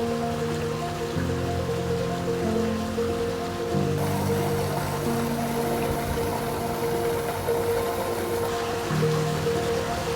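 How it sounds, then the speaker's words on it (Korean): Spring water flowing from rock crevices among ancient ruins in Smyrna, Türkiye, trickles and splashes continuously at close range, a steady bright wash with a faint low hum beneath it. "그 정지된 풍경 끝에 나는 멈추지 않는 물소리를 만나."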